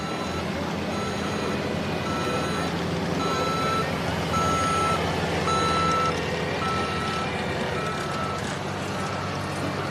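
Military eight-wheeler double deuce truck backing up at an evening motorsport event, its reversing alarm beeping steadily and repeatedly for the whole stretch over a loud, busy outdoor crowd and engine wash.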